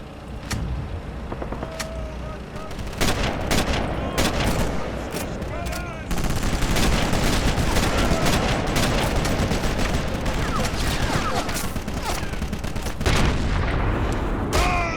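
Sniper rifle shots in Sniper Elite crack out as many sharp, loud reports scattered across a busy wartime soundscape, with some spoken voices between them.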